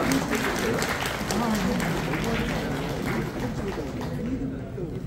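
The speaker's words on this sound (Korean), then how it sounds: "예, 박수 주십시오." An audience at a Korean sports committee launch and scholarship ceremony applauds an arriving guest, moderate steady clapping throughout with voices over it.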